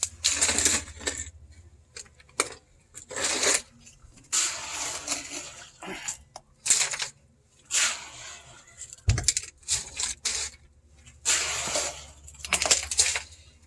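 Concrete from an 80-pound bag mix is poured into a mold in irregular gritty bursts, each rush of wet, sandy pouring separated by short pauses, close and moderately loud.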